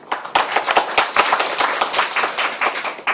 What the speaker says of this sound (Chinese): 我们请掌声欢迎